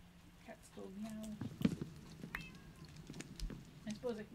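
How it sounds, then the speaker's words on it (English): A cat meows in a video game over quiet game sounds and clops. The meows are short, soft and repeated, and a voice talks over them. "Cats go meow."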